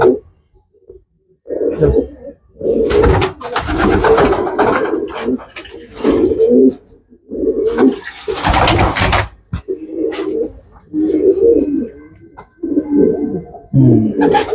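Racing pigeons coo in repeated low bursts, fairly close, with fluttery, rustling noise between calls and brief pauses of quiet.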